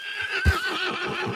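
Horse whinnying in the video game Red Dead Redemption 2, a single close, loud neigh with a wavering pitch lasting about a second, over soft game ambience and faint hoof thuds.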